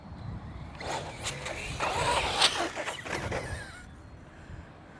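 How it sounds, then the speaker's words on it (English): A radio control car runs across the ground with its front wheels lifted in a wheelie, giving a buzzing electric motor whine with rising and falling bursts that swell mid-run and then fade as it moves away. "So we'll bring the car over this side, and I'll try and pop the front wheels up and hopefully maintain the wheelie throughout the run"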